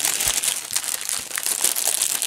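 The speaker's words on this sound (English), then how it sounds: "Pardon the crinkling." Plastic packaging around a pack of drills crinkles close up, a dense, continuous rustle and crackle that runs without pause.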